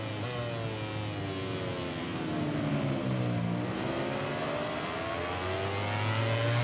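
MotoGP 18 racing motorcycle engine in a video game, a steady high-pitched howl with a sustained drone, pitch dipping then climbing again as the bike brakes into a left-hander and accelerates out, loud and continuous throughout.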